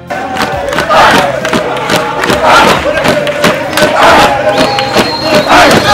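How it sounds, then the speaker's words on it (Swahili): A crowd of students, staff and officials setting off on a jogging club's health run cheers and ululates, loud and continuous, with overlapping shouts and voices. "wakiondoka kwa kasi huku shangwe na vigelegele vikichukua anga"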